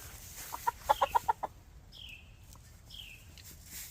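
A young button stag chicken and a Kelso hen cluck nearby, a quick burst of five or six soft clucks followed by a couple of higher drawn-out calls over quiet background.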